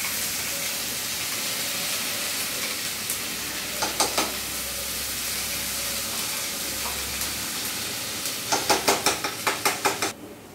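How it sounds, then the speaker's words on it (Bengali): A ground spice paste made with whisked sour curd fries and is stirred in a kadai, giving a steady hissing sizzle broken by short bursts of spoon-against-pan scraping and clinks near the middle and toward the end. "খানিকক্ষণ নাড়াচাড়া করে কষিয়ে নিলাম।"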